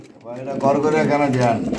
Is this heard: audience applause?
no